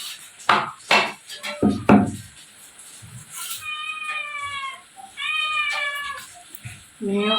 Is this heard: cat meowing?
yes